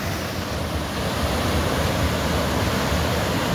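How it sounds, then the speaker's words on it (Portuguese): Steady, loud rushing of river water flowing beneath a rock near Diamantina, a continuous broadband roar close to the microphone with no voices. "Olha o barulho. A água passa bem debaixo daquela pedra."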